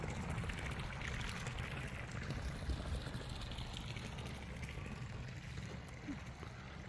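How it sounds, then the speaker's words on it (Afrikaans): On a game farm, a strong stream of water pours into a large, half-full cement dam, a continuous splashing wash that stays even and moderately close from start to finish. "En hy gooi 'n lekker stroom water."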